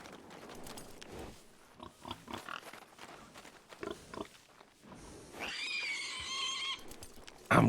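At a livestock auction, a pig grunts and squeals in short irregular bursts, ending in a long, loud, high squeal, with faint background noise between the calls.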